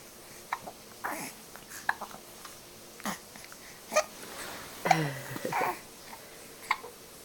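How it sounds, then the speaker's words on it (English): A five-week-old baby hiccups softly several times at Christmas, short separate squeaky bursts spaced unevenly, close by and fairly faint, with no talking over them. "now you have the hiccups?"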